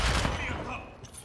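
Gunfire from Call of Duty: Modern Warfare II, loud, dense rapid bursts packed together at the start and thinning slightly toward the end, with a voice talking over it.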